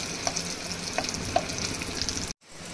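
Fenugreek leaves frying in oil, a steady close crackling sizzle with light stirring taps, cutting off abruptly near the end before a quieter sizzle resumes; no talk.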